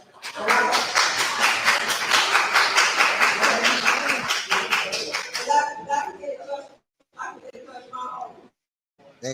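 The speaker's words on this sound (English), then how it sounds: "They clapping again." A group at a board meeting claps steadily and rhythmically for about five seconds, then the applause fades into people talking with brief pauses.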